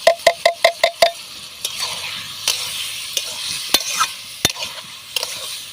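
Meat and spices frying in a pan: a quick run of six sharp metal scrapes opens, then slower spatula strokes and clinks spaced over a continuous close sizzle.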